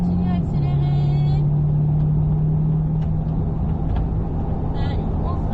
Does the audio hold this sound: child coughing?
no